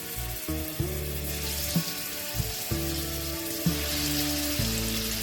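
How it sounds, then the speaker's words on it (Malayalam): Fish frying in hot oil in a pan, giving a steady sizzle with low rhythmic thumps and clatter from handling, close and with no talk. "നമ്മുടെ മീനൊന്ന് ഫ്രൈ ചെയ്തെടുക്കാനാണ്."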